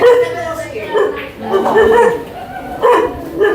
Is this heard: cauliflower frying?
no